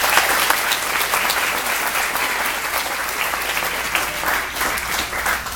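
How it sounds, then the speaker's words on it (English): Loud, sustained applause from a graduation audience for a student, thick continuous clapping from a large crowd at steady strength, with brief brighter bursts near the end. "Another round of applause for her."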